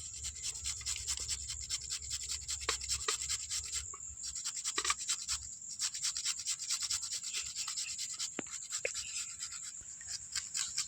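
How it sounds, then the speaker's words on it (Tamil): Beetroot grated by hand on a grater: a steady run of fast, rhythmic rasping strokes, close and fairly quiet, continuing throughout with brief pauses. "இப்போ இதை கிழங்க நம்ம துருவி எடுத்துக்கிறலாம்"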